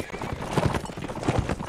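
Horses in the Mount and Blade video game gallop with a steady clip-clop of hooves and let out neighs, loud and close, filling the whole short stretch over game noise.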